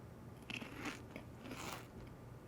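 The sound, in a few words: munching, biting and chewing food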